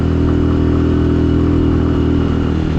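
A motorcycle engine droning loud and steady while the rider rides through icy mountain terrain, a constant close rumble with buzzy harmonics and no clear gear change heard.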